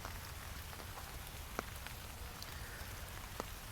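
Rain falls quietly and steadily in the wooded North Woods of New York's Central Park, a soft constant patter. A few sharper drips land now and then.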